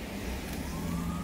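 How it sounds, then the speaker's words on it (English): Emergency vehicle sirens wail outside, loud and continuous, blended into a dense wash of traffic rumble with no pause and no voices. "Stupid sirens, can you shut up?"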